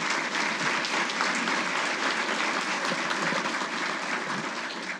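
Applause from the audience at a Defense Logistics Agency annual awards ceremony, a dense, steady roar of clapping that carries evenly through the whole stretch and fades slightly at the end.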